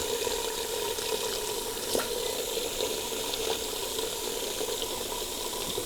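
A pot filler faucet runs water into a pot for chicken soup, producing a steady, even rushing stream with no pauses and no talk.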